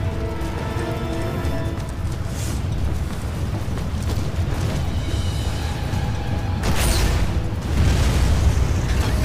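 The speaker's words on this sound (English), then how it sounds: "we have a rocket launcher!" Rocket launcher explosions in the game Lost Planet: Extreme Condition, a long continuous rumbling roar of blasts and debris with sharper bursts near the end, loud and dense throughout.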